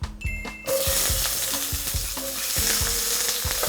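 Vegetables stir-fried in a very hot pan greased with pork fat for Taiwanese fried noodles: a sudden loud sizzle erupts and holds steady, broken by regular spatula scrapes and clanks against the pan.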